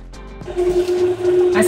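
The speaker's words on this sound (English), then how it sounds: "I'll just go ahead and start juicing. I'm adding my carrots." An electric juicer processes fresh carrots, a loud continuous motor whine with a grinding, churning rattle that swells after a brief start and holds steady at close range.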